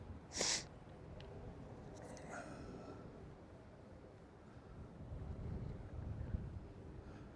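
Wind gusting across a river during a fishing trip, a steady broad rush with swelling louder gusts toward the end, alone with no talk.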